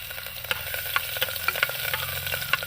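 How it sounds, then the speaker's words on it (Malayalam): Chopped ginger and garlic sizzle in hot oil for a Kerala-style potato curry, a steady close crackle with scattered sharp pops and the light scrape of stirring, no voices. "ഇതിലേക്ക് നമ്മൾ അരിഞ്ഞു വെച്ചിട്ടുള്ള ഇഞ്ചി വെളുത്തുള്ളി ചേർത്ത് കൊടുക്കാം."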